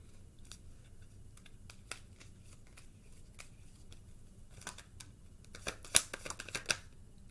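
Tarot cards are shuffled and drawn from the deck, with soft papery flicks and riffles that grow busier and louder toward the end, close up in a quiet room.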